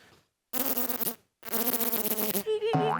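A voice imitates a bumblebee, producing two buzzing, droning hums in separate bursts with a short pause between them.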